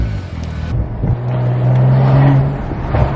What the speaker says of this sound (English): Oh my god, the turbo sounds so good.